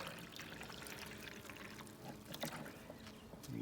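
Sugar water syrup, a one-to-one mix of sugar and water, pours steadily into a gallon beehive feeder, a continuous close liquid trickle and splash that runs throughout, with a brief stronger gush near the end.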